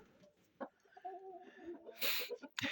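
Chickens and roosters in a coop with a sawdust-covered floor make a few quiet, close clucks and short squawks. Brief calls come at irregular moments, then a sharper burst near the end.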